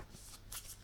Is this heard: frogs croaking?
no